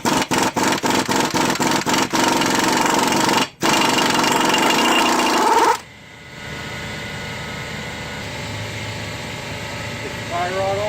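A power tool hammers rapidly at the 30 mm axle nut of a 2003 Ford Taurus during wheel bearing work, loud rattling bursts that turn into a steady whir, stop abruptly, and leave quiet shop noise.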